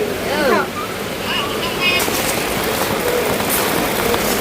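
Heavy rain pours down during a storm at a rural Thai funeral gathering, a steady dense hiss filling the scene throughout with voices talking faintly underneath.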